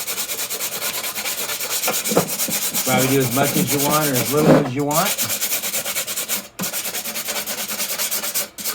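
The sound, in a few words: sanding a metal shroud with sandpaper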